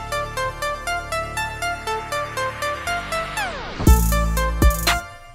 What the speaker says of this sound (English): let's see what it sounds like with the tape stop and this effect in there